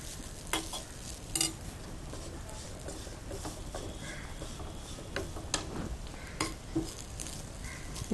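Grated coconut roasting in ghee in a pan for an Indian sweet, a soft continuous sizzle with intermittent scrapes and clinks of a spoon stirring against the pan, close up.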